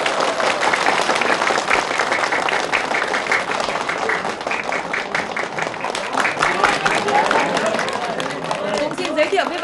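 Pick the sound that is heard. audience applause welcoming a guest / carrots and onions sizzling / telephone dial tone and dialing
audience applause welcoming a guest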